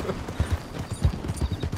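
Horse hooves in Red Dead Redemption 2 clip-clopping at a steady walking rhythm, close and fairly loud, with low thumping steps over faint background ambience.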